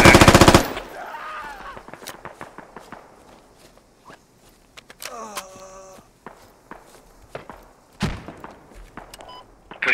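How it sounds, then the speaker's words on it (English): Close bursts of machine-gun fire in the tactical shooter Squad, with a rapid rattling volley at the start and scattered single shots later. Footsteps and gear thumps run between the shots, and a brief radio-like tone plays in the middle. "The guy we shot at was down, Steinbeck."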